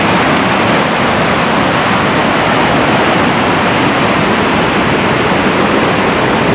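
A river rushes below at the foot of Mount Kinabalu in Sabah, a loud, unbroken roar of churning water that fills the air evenly with no pauses and no voices.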